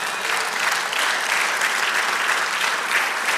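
A church congregation applauds steadily, a dense wash of clapping that holds at an even level throughout with no talking.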